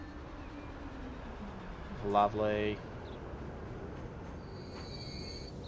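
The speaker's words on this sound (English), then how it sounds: "Here comes a passenger train doing its bit." A passenger train arrives at a station in the video game Transport Fever 2, its brakes letting out a brief rising squeal over a low steady rumble, with a short spoken word just after.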